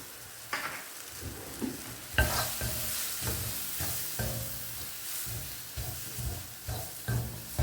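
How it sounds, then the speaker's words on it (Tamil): Turmeric and coriander powder are sautéed and stirred in a frying pan for a baby corn pepper fry. A steady sizzle carries repeated scraping stir strokes at close range, with no talking. "நல்லா வதக்குங்க"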